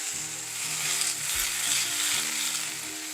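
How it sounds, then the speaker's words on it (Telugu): Washed fresh mint leaves fry in hot oil in a pan, a dense, even hiss and sizzle with faint crackles, close and steady throughout with no speech. "ఇప్పుడు ఇదే వేడి ప్యాన్లో కొంచెం ఆయిల్ వేసుకొని నూనె వేడెక్కిన తర్వాత వాష్ చేసుకున్న పుదీనా వేసేయండి"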